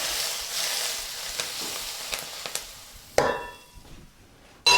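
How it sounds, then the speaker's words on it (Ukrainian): Hot salad dressing poured over spices sizzles and crackles in short bursts, with a sharp hiss that fades, then a louder clatter at the end; no talking. "Зараз вона буде шкварчати."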